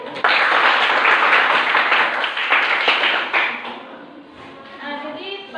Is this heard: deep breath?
no